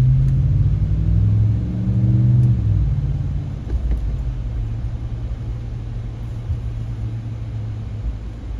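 Car fitted with a Flowmaster Signature Series muffler pulls away on a road, a steady low, fairly quiet exhaust rumble rising briefly around the shift then settling into an even drone, with no talking.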